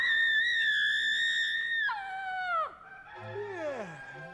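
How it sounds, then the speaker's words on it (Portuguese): A cartoon character lets out a long, loud, wavering scream with descending howl-like pitch swoops, alone without talk. "porque o grito da Laurinha tem esse poder"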